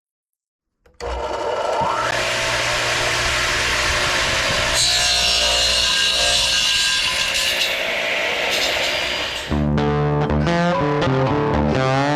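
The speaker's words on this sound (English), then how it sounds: "right now, I'm cutting the legs here for the workbench legs and the blanks for them to be glued up" Wood is cut into blanks for workbench legs with a loud, sustained power-saw whine that holds steady, shifts tone partway through, then ends in a changing, pulsing tail after a brief silent start.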